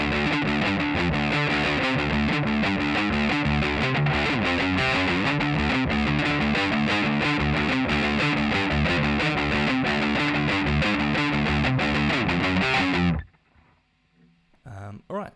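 A distorted electric guitar plays bridge riffs, dense layered heavy chugging for about thirteen seconds before stopping abruptly, followed by faint quiet noises.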